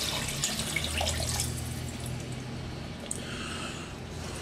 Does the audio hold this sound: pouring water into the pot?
yes